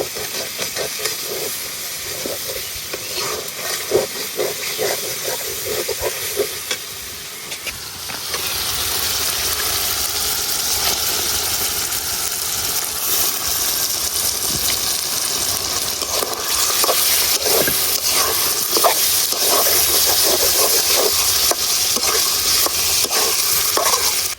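Chicken pieces of a home-raised country hen dropped into a pan of cooked-down spiced oil for a curry, sizzling loudly and steadily with bursts of hiss and stirring scrapes, no talking.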